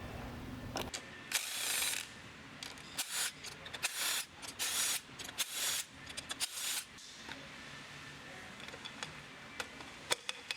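Ratchet work on the clutch cover bolts of a KTM or Husqvarna motorcycle with a DDS-style clutch: bursts of close metallic clicking and mechanical rattling separated by short pauses, no voices.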